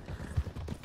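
Hooves of a horse in Red Dead Redemption 2 clop in a short burst of a few low thuds, close and moderately loud, with no voices over them.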